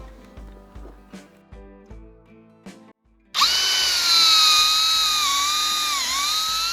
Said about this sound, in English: Make sure you angle your drill bit up slightly when you're drilling